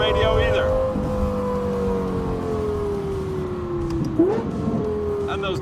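Lexus LFA Spyder engine downshifting, a loud continuous engine whine dropping steadily in pitch, with a sharp blip of revs near the end as it settles into a lower gear.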